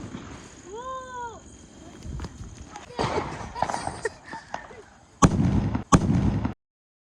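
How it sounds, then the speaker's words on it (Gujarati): A sutli bomb firecracker goes off with a couple of sharp, loud bangs near the end, after some quieter rustling, a brief whistle-like tone and people talking close by. "હવે ટ્રાય કરીએ સુતળી બોમ્બ."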